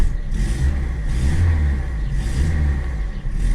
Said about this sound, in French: Alors le moteur n'est pas particulièrement une réussite.